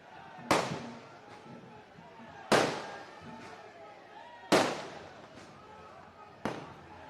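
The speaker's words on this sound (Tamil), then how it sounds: "3 மணி நேரத்துக்கு மேல அண்ணா இந்த பட்டாசு போயிடுச்சு" Firecrackers at a crowded outdoor political gathering: four sharp, loud bangs about two seconds apart, each trailing off into echo, with a murmur of voices underneath.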